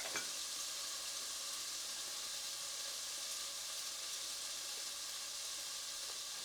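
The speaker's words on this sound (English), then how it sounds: "Keep moving the food around the pan and cook for another 2 minutes." Noodles and mixed seeds stir-fried in a pan give off a steady, close sizzle with soft hissing and faint scraping as the food is kept moving, continuous and without talk.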